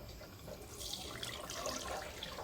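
Water is poured through a sieve while making homemade coconut oil, a steady splashing trickle that swells after the first moment and continues alone, close by.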